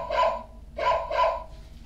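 Three short barks in a row from a toy's sound button, bright electronic dog barks spaced about half a second apart, close and fairly loud with no talk over them.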